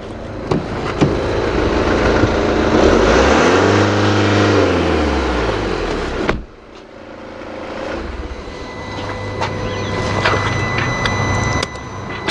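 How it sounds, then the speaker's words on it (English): A Mercedes E220D diesel engine with P2463 and P0471 faults revs hard at wide open throttle, rising and falling in one loud sweep before cutting back to a steady idle with no talk. "Give it one wide open throttle."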